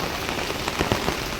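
Heavy rain pours down steadily, a dense, continuous hiss of drops drumming on nearby surfaces with a few louder splatters, and no voices.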